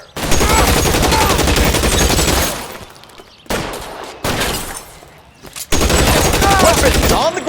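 Loud, dense bursts of covering gunfire in LA Noire on Xbox Series X/S, sustained rapid shooting broken by short pauses, then resuming heavily near the end, with no talk over it.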